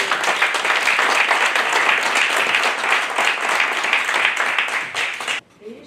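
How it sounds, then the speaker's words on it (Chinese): Attendees at an association board meeting applaud together, a sustained, dense round of clapping from a roomful of people that holds steady for several seconds and then cuts off abruptly. "没有的话我们鼓掌"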